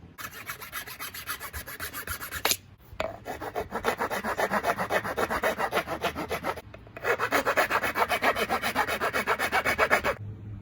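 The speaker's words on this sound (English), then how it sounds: "I also found these files in my toolbox, and I'm going to open up these notches more so the string is accepted better." Files rasp back and forth across the string notches of a wooden longbow, a close, rhythmic scraping of rapid strokes in three bursts separated by brief pauses.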